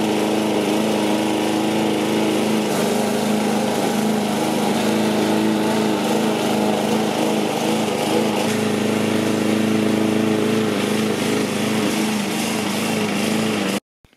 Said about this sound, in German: werde ich jetzt hier mal kurz mit dem Rasenmäher durchgehen